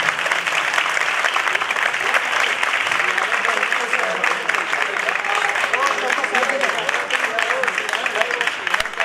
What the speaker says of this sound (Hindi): खुदा के खादम के लिए जोरदार ताली बजाइए